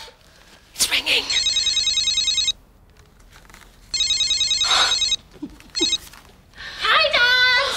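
A telephone rings in repeated electronic trill bursts of roughly a second and a half, separated by pauses, with people talking and exclaiming close by between and over the rings.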